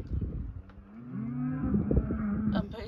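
Cows on a rural road on the Isle of Harris or Lewis low loudly, with one drawn-out rising and falling moo dominating the middle, close by and heard over faint outdoor background.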